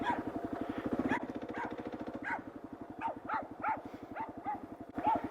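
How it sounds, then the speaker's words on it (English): A dog barks repeatedly near a KLR650 dual-sport motorcycle, sharp yips and bow-wows in an irregular series over the steady idling engine rumble during riding practice. "You'll have to excuse the dog."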